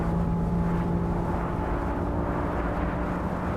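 A BMW M4 in the Assetto Corsa racing game drones steadily under acceleration near Monza's Curva Grande, a sustained, even engine tone held close and loud with no talk over it.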